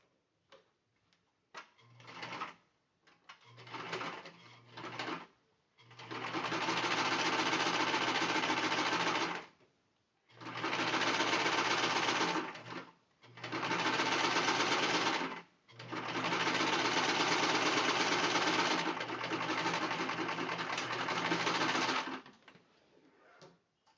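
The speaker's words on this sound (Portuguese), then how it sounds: "a gente vai passar uma costurinha de um pé de máquina, bem aqui na beiradinha" Sewing machine stitching a seam along the edge of fabric, turned inside out, while making a pocketed car trash bag: several long loud bursts of running stitching separated by short pauses, with brief start-stop runs at the beginning.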